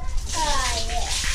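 Water running and splashing close by, with a voice and other talk over the top.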